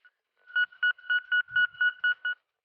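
A metal detector sounds on a target during a search in western Ukraine, giving a quick, regular run of about eight short, clear beeps close by against silence.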